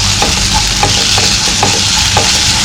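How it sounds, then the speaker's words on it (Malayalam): Chopped onion sautéing in a hot pan, a steady loud sizzle with soft periodic scrapes of a spoon stirring, no talking. "സവോള കൂടുതൽ ബ്രൗൺ കളറൊന്നും ആവണ്ട, ജസ്റ്റ് ഒന്ന് വഴണ്ടി കിട്ടിയാൽ മതി"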